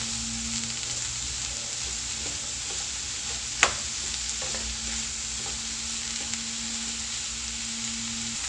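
Tamarind and tomato sautéing in a pan for radish chutney make a steady sizzle with spoon stirring and one sharp clack of utensil on pan partway through.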